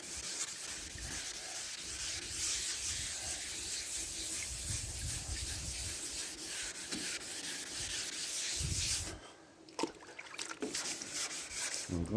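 Wet sanding of primer on a VW Beetle trailer body, with paper rubbed steadily over the panel in a continuous close-up swishing scrape that stops abruptly near the end.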